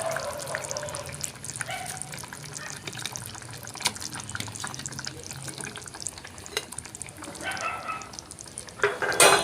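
Pieces of fish go into a boiling Tamil fish kulambu curry, with soft wet splashes, bubbling and scattered clinks against the pot, fairly quiet and close.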